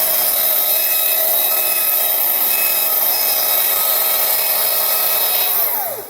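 Chainsaw carving scrap wood, a loud continuous high whine with a gritty cutting rasp, held steady up close, then the engine note sliding down and fading away at the very end.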